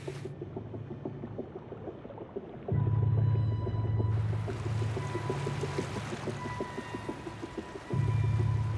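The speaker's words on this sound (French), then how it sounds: "L'épaulard localise sa proie sous l'eau en émettant une onde sonore à haute fréquence." An orca hunting underwater off the Shetland Islands sends out rapid trains of echolocation clicks over a low, droning engine hum that swells and fades.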